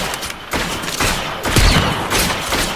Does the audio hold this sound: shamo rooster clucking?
no